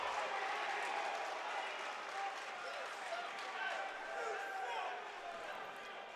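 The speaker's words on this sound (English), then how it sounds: "As you can hear a few chants from the crowd, they are not happy with the ref's last call." Indoor college basketball game crowd noise, a steady murmur of spectators with scattered shouts and chanting after a referee's call, under a commentator's voice.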